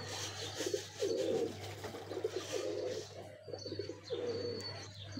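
Pigeons on a rooftop coo in soft repeated rolling phrases, several in a steady rhythm, with faint chirps and a low hum behind them.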